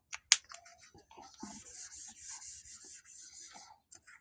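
Marker or chalk rubs across a board in short strokes and a longer steady scrawl, faint and close, with a few small taps between strokes and no voice.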